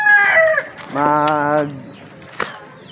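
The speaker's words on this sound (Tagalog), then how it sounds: "dito tayo sa mga chicken manok ni Matang Lawin" Chickens clucking and a rooster crowing close by, with a rising harmonic crow in the middle and scattered clucks and short calls around it.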